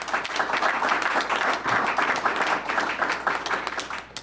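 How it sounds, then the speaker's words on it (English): An audience at a school board meeting applauds, a dense, steady burst of clapping from many hands that keeps going at moderate volume without fading. "they deserve a round of applause as well."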